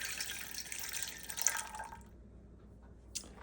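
Water is poured into a bread maker bucket for sourdough bread, a soft, faint trickling splash that runs for about two seconds and then stops, leaving near silence and a small final drip.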